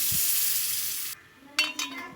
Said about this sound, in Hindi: फिर इतना पानी डालें कि गोश्त बिल्कुल गल जाए।